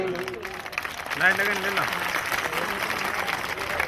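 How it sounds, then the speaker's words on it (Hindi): Audience applause at an evening bhajan gathering, a steady wash of clapping that carries through, with voices talking and calling over it throughout. "चारों तरफ से जबरदस्त तालियां बजा करके स्वागत करें"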